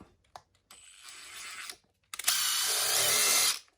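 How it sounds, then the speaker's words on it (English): A power drill whirs in two bursts while drilling out an RC scale car wheel, a short one and then a longer, louder run, with faint clicks before it starts. "All right, we're gonna have to drill out the wheel."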